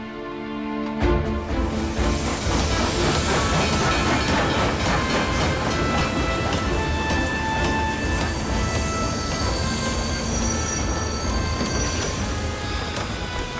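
Steam train at a station in Dresden, a continuous loud rumble with hissing steam and rhythmic rail clatter that starts abruptly and carries on throughout.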